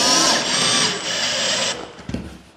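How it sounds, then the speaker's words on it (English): A power drill driving drywall screws into plasterboard, one loud, close whirring run that stops abruptly, followed by a short clatter. "when you're setting your drywall screws into your plasterboard"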